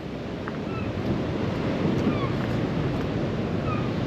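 Rough sea waves pound the coast at Dawlish during Storm Nelson, a loud continuous roar of surf and wind buffeting with no clear breaks.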